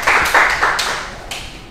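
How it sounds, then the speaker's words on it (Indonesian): Short burst of classroom clapping after a group presentation, a few quick uneven claps from a small group that fade within about two seconds. "kita kasih tepuk tangan untuk kita semua"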